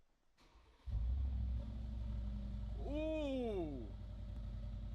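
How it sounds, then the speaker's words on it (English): A car with a newly fitted Miltech exhaust idles with a deep rumble and then revs up and back down in one rising and falling sweep, close and steady, with a voice exclaiming briefly. "I fitted the Miltech exhaust whilst Jimmy was cleaning the interior. Let's listen to it."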